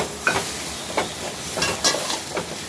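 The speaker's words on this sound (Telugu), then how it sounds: "ఆనియన్స్ ఫ్రై అయ్యేదాకా వేయించాలి" Onion paste fries in oil with a soft sizzle, broken by several sharp stirring scrapes at irregular intervals.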